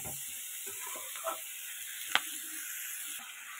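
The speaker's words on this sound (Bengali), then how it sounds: "এটাকে ঢাকা দিয়ে দিয়ে ভালো করে ভাজা করে নেব।" Fish and eggs frying in oil inside a covered pan, seasoned with salt and turmeric, give a steady, soft sizzle with a few small pops and one sharp crackle midway, and no voices.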